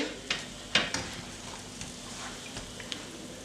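Donuts frying in hot oil give a soft, steady sizzle close by, broken by a few sharp clinks and taps of a utensil against the pan, with no voices.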